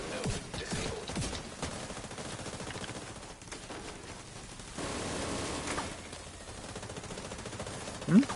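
Squad gunfire in The Division's Dark Hours raid: a dense, steady volley of automatic and rapid shots from several weapons at once runs continuously, with brief louder bursts.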